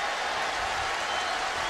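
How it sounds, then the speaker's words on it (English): Loud stadium crowd at an American football game as the offense sets up at the one-yard line, a dense, steady roar of cheering and noise filling the whole clip without a break. "Loud crowd."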